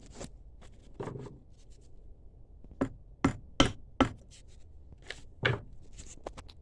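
A part of a Senco M2 stapler being tapped into place with a piece of wood: a quiet workshop with a few soft knocks, then a quick run of four sharp taps, followed by one more.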